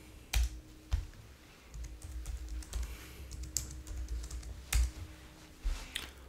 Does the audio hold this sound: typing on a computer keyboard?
yes